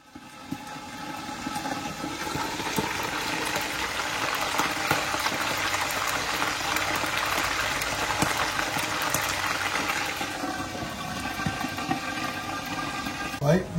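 Sardines fry in a pan for sambal, giving a steady, broadband sizzle and crackle throughout that swells in the middle, then eases toward the end.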